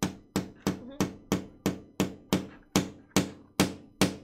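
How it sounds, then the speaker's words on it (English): A hammer drives nails into a piece of wood while building a yardstick diddley bow: twelve sharp, evenly spaced strikes, close and loud, with no talking. "and a hammer, and we're just gonna nail our nails in."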